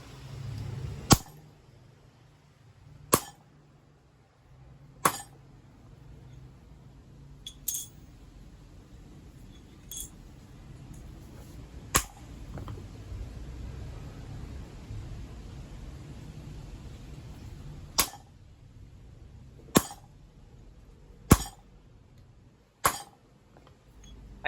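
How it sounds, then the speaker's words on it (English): Sharp hammer blows on a chisel-point punch driven through cold 1/4 inch steel, about ten loud metallic strikes spaced a second or two apart, with quiet shop room tone between them. "I'll see if I can punch a hole straight through cold in this piece of 1/4 inch."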